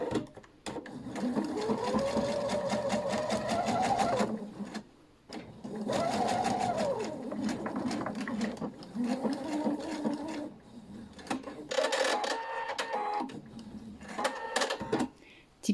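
A domestic sewing machine stitches a long patchwork quilt seam in steady whirring runs, pausing and restarting several times, with someone speaking over and between the bursts.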